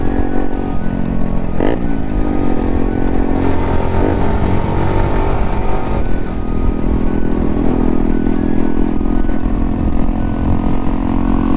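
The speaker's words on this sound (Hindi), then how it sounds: "एग्जॉस्ट सुनो, एग्जॉस्ट हाय हाय।" A motorcycle's exhaust roars loud and close, revving with rising and falling pitch over a constant engine rumble and some rattling clatter, with no talk.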